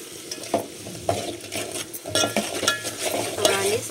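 A spoon stirs turmeric and salt through country chicken curry in a pan, with repeated close scraping strokes over a faint sizzle.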